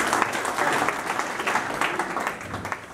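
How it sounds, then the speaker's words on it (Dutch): A talk show studio audience gives loud, continuous applause with dense clapping that swells and stays steady for the full stretch, with a faint voice underneath. "Applaus, dames en heren,"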